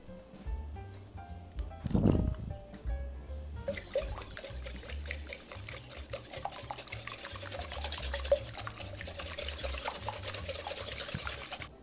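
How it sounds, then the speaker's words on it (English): Two eggs are beaten well in a large mixing bowl for crepe batter, giving a soft, steady, rapid whisking and sloshing patter. One louder knock comes early, then the quiet rhythmic liquid stirring continues throughout, close by. "We're going to beat those well"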